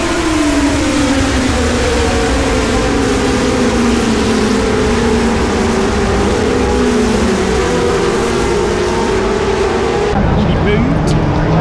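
Race cars sweep through a corner at Silverstone circuit, loud overlapping engine notes rising and falling as several cars pass in succession, heard from trackside with a continuous roar throughout.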